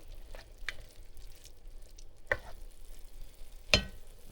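Ground beef sizzles in a pot, a steady low frying hiss running throughout, broken by a few sharp clanks of a utensil against the pot.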